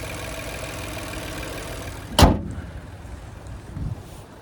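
A turbocharged 1.3-liter three-cylinder engine in a 2024 Chevrolet TrailBlazer RS idles with a steady low hum, broken midway by one sharp clack and a brief rise in the drone afterward.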